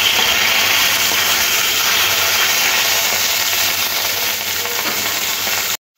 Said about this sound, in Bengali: এবার এই তেলের মধ্যে ইলিশ মাছ ভেজে নেব।